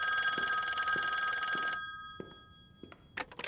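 An old-style telephone bell rings steadily and loudly for nearly two seconds, then stops, followed by a few faint clicks and handling noises as the receiver is picked up in a tense drama scene.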